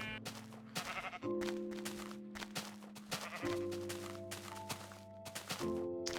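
Minecraft sheep bleat in a video game, several repeated wavering bleats near and fairly loud over a quiet background, with no talking.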